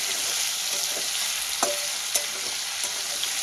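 Elephant foot yam and potato frying in oil, a continuous soft sizzle with a few sharp clicks of a utensil against the pan.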